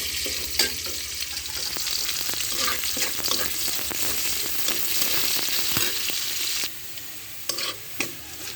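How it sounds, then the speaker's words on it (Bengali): Chopped onion frying in hot oil in a pan, a steady close sizzle throughout with scattered clicks and taps of stirring, easing slightly near the end; no one speaks. "পেঁয়াজ কুচি আমি বাদামি কালার করে ভেজে নিলাম"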